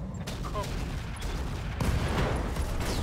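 Three AC-20 autocannons firing at once in modded Battletech (Roguetech): a heavy, booming volley that rolls on as a continuous dense rumble, with a sharper second surge partway through, loud and close.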